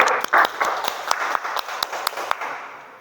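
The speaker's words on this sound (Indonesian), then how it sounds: "Tepuk tangan dulu untuk Yofi" Classroom applause for a student during a lesson, a brisk burst of clapping from a small group with distinct sharp claps standing out, steady and fairly close, tapering slightly toward the end.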